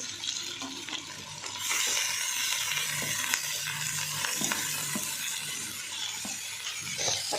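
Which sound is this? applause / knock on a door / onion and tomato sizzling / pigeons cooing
onion and tomato sizzling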